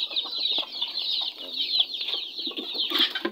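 A mother hen named Chik-Chik clucks on a farm, a series of short, close clucks and soft throaty calls repeating irregularly, with a brief burst of louder squawking near the end.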